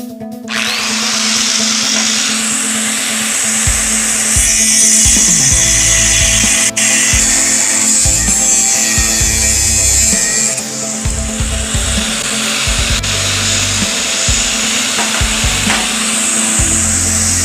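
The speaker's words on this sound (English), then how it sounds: "go ahead and cut out the pie piece that's in the pocket" Power tool cutting a metal pie piece out of a pocket on a custom pickup truck bed for a 1959 Chevy Viking 60, a loud continuous grinding whine with rough scraping, steady throughout and close.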